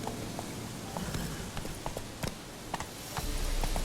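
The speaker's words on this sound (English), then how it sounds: "I wanted to mount the horse." Horse hooves clip-clop in the Witcher 3 video game, a faint, irregular run of hoof strikes over a steady background rumble.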